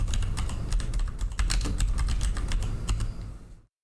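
Rapid, continuous tapping on a computer keyboard, close and fairly loud, with dense irregular keystrokes running steadily for almost four seconds before cutting off.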